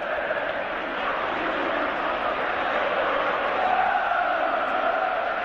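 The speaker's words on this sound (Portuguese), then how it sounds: "Torcida do São Paulo faz um belíssimo papel." A São Paulo football crowd fills a stadium at the 1999 Brasileirão semi-final against Corinthians, producing a steady, dense roar of cheering and chanting that holds at a constant level throughout, with no breaks.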